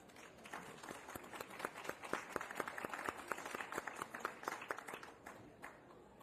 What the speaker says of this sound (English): I hope you'll join me in thanking our panelists with a round of applause